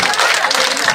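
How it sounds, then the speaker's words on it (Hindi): A crowd at an outdoor public rally in village Baraut, Gannaur, claps to welcome MLA Devender Kadyan, a dense, steady wash of many hands held at even loudness for the whole moment. "जोरदार तालियों से स्वागत करें"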